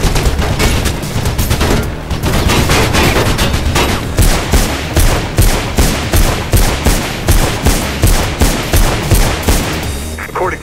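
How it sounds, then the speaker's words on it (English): Sustained machine gun fire in Mirror's Edge, loud and close, with dense bursts of rapid shots that pulse in a steady rhythm for about ten seconds, no voices over it. "Goddamn machine gun."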